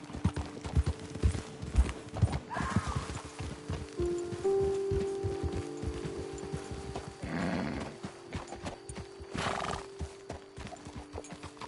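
Steady clip-clop of horse hooves walking on hard ground in the video game Red Dead Redemption 2, close by, with occasional snorts and whinnies breaking through.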